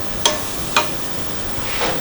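Onions stir-fry in butter over medium heat on an IH induction stove, with a soft sizzle underneath. Two sharp spatula scrapes or clicks stand out near the start, followed by a broader scraping stir near the end.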